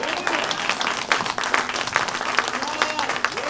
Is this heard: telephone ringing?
no